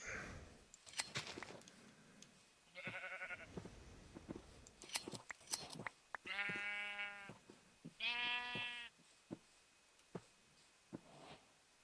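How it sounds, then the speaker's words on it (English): Minecraft sheep in a snowy Hardcore Vanilla world (version 1.17.1) give three clear, separate bleats, each a second or so long, amid scattered clicks and light game sounds. "We got lots of sheep all over the place."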